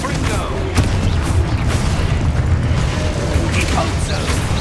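A Confringo fire-blast spell from the video game Hogwarts Legacy, heard as a dense, loud, sustained rumbling blast with a sharp burst near the start, dominated by heavy low-end energy.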